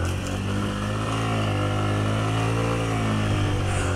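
A 100cc motorcycle labours up a rocky, high-altitude mountain road in first gear, its engine droning loud and steady with a strained, revving pitch throughout, close by and without speech.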